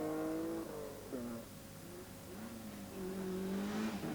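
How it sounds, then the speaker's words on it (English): Ford Sierra 4x4 four-wheel-drive rally car at the 1987 Norway Winter Rally, its engine revving up and down through several gear changes as it drives past, loud and alone. "It's a 4-wheel drive car."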